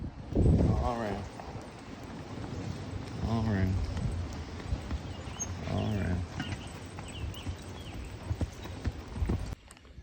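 Working horses' hooves clip-clop in a steady walking rhythm nearby, while someone talks over them for most of the time.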